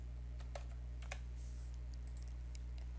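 Light typing on a computer keyboard, a few scattered key taps in short bursts over a steady low hum, faint and close.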